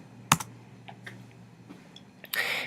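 A command typed on a computer keyboard into a MicroWorlds EX Logo command center: a few scattered soft keystrokes followed by a sharp burst of rapid clicks, close and with no talk.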